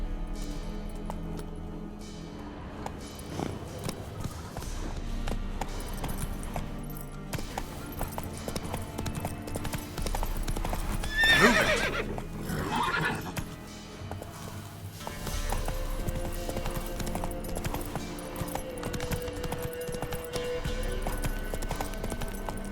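Horse hooves trotting in the video game Witcher 3, a steady clip-clop under game music and ambient noise, moderate in level, with a brief swell of sound midway and no talk.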